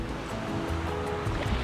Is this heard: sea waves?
yes